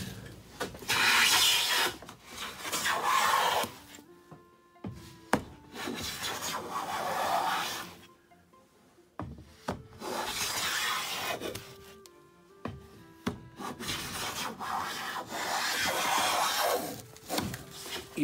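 A hand plane runs along a wooden board held by an iron T-stop on a workbench, giving repeated long shaving strokes, each a rising then fading rasp separated by brief pauses and knocks, close and clear without talk.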